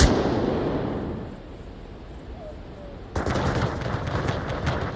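Gunfire in the Onward VR tactical shooter during a competitive match: a loud opening shot fades into ambient battlefield noise, then a sustained burst of rapid rifle fire crackles continuously to the end.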